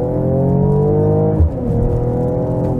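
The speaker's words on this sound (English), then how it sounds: "Exhaust set to powerful, and from 50 kilometers," A Mercedes GLE Coupé 53 AMG with its exhaust in the powerful setting accelerates from about 50 km/h. A strong, close engine drone holds steady, then briefly dips and changes pitch at a gear shift before pulling on.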